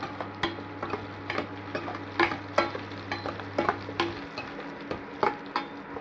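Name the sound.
onion and garlic being stirred while frying in pan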